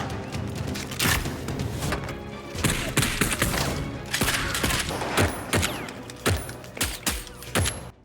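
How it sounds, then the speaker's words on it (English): A shootout in a film between agents and guards, with dense bursts of rapid gunfire and heavy thuds, loud and continuous throughout, mixed into the soundtrack. "Outside, gunfire breaks out as agents clash with guards."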